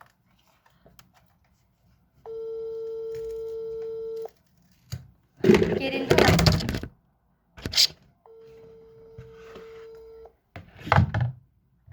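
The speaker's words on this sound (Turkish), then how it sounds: "Ay çalıyor şu an kızın telefonu." A phone rings during a WhatsApp call, two long steady ring tones separated by loud bumps, handling noise and a brief voice.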